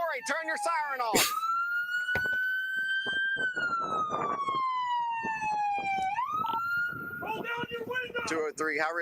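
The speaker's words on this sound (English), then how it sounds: "Turn your siren off." A police car siren at a high-risk traffic stop wails in long rising and falling sweeps, loud and close, with brief whoops at the start and end and a voice speaking over it.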